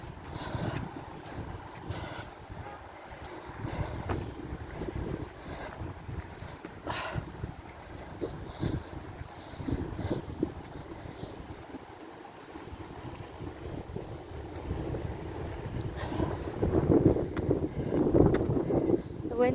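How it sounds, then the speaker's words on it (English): Cold wind gusting on an open outdoor walking and cycling path, rumbling in bursts across the microphone with buffeting growing stronger toward the end, under occasional talking. "The wind's starting to get back up again."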